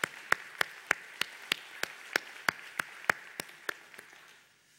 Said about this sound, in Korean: 다시 한번 하나님께 감사의 박수 드리겠습니다.